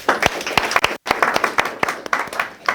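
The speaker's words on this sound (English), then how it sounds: "Let's clap for them." An audience at a conference session on Christian work ethics claps for presenters. The claps are close, crisp and in a steady rhythm, with a brief break partway through before the clapping resumes.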